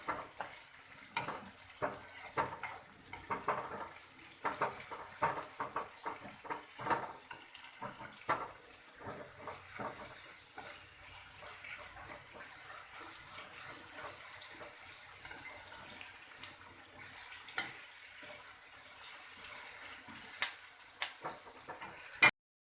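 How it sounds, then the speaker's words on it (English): Sliced onions sizzle in hot oil in a pan with curry leaves and salt while a spoon stirs and scrapes, a steady close-up hiss broken by frequent clinks and scrapes throughout. "Now we can see if onion is fried this much, it's enough."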